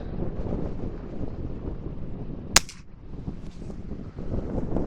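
A single sharp shot from a Chiappa Little Badger rifle cracks out over steady wind buffeting the microphone, with a brief echo trailing off.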